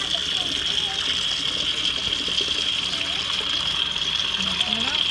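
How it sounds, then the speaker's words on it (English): Running water streams steadily over tea-dyed yarn dyed with Lipton tea, a continuous close rush throughout with faint children's voices in the background. "We'll see how much we have to rinse this."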